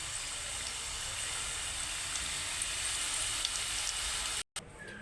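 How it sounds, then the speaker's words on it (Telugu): Pieces of kaja, a Telugu sweet, deep fry in hot oil with a steady soft sizzling hiss, close and continuous, broken by a brief dropout near the end. "ఇంకా ఒక్కొక్కటిగా వేసి వేయించుకుందాం, డీప్ ఫ్రై చేసుకుందాం."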